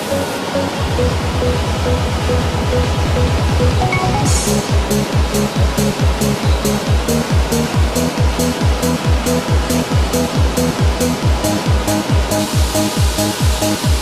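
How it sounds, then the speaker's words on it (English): Water rushes continuously over potatoes, carrots and parsnips in a root-vegetable washing line at a processing plant, with a loud, regular mechanical thumping repeating about once a second beneath the spray. "Root veg such as potatoes, carrots and parsnips are washed to remove soil, stone, insects and other contamination."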